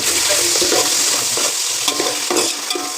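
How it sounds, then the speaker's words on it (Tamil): Onions deep-frying in oil with cardamom and cinnamon for mushroom biryani, a loud close sizzle with a few stirring scrapes and clinks, continuous for the whole stretch. "ஆனியன்ஸ் நல்லா கொஞ்சம் டீப் ஃப்ரை ஆகட்டும்."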